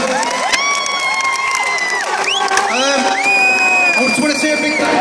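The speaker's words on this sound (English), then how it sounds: "give everyone a big round of applause." A crowd at the Brit Asia 2013 awards cheers, whoops and claps loudly and continuously, with voices shouting through the noise.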